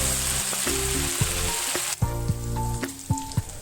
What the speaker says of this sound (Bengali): ততক্ষণ আমরা নাড়িয়ে নেব যতক্ষণ না আদা আর রসুনের কাঁচা গন্ধটা একেবারে চলে